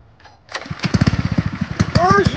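A GMB 100 mini bike engine with the choke on starts on the first pull, sputtering into a rapid, uneven idle close by while voices shout excitedly over it.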